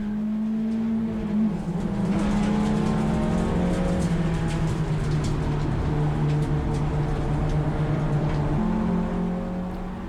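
Race car engine at full throttle during a circuit race, a loud steady drone holding one pitch with a brief dip and climb near the end, continuous and close with no talk.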